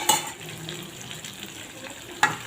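Eggs drop into sizzling cooked masala in a pan, giving a steady soft frying hiss with a couple of brief clinks from a utensil.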